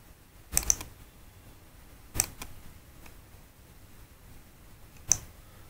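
A handful of sparse, quiet keystrokes on a computer keyboard while entering a formula in an Excel spreadsheet, with two quick clicks, then a single press, then a lone tap after a pause.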